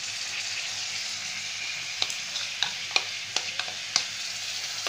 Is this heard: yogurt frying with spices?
yes